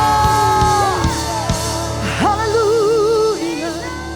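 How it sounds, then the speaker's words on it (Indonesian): A church congregation at a worship service shouts and cheers together in a loud, sustained burst of voices, with a sung or held tone rising and wavering partway through. "Yang diberkati Tuhan lebih lagi sorakan haleluya."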